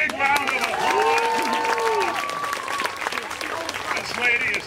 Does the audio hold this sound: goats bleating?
no